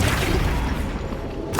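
Spell blasts cast in the video game Hogwarts Legacy: a deep, booming burst that rumbles on and fades, then a sharp crackle at the very end, with nobody talking.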